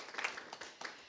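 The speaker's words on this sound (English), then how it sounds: "A quick round of applause for Alistair." Brief applause after a print exhibition results presentation, a small group clapping quietly and unevenly at close range for about a second.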